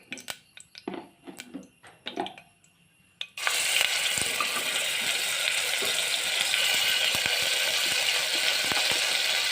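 Garlic ginger paste hits hot sunflower oil in a pan for chicken curry, bursting into a loud, steady, dense sizzle that holds for several seconds after a few clinks and faint handling sounds.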